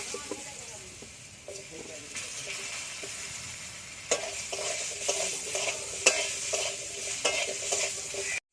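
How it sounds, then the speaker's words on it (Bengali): Potatoes frying in hot mustard oil, after fish pieces were fried in it, give a steady close sizzle with repeated scraping stirs and clinks from the pan, louder in the second half; no voice is heard. "তেলে আমি আলু দিয়ে দেবো"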